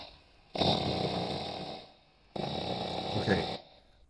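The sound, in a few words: AI-generated sound effect resembling snoring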